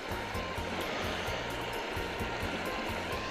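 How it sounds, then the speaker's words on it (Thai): Water pouring over a weir at a fishing spot, a steady broadband rush that stays even and fairly loud throughout with no voices over it. "ฝายน้ำไหล นี่ครับ"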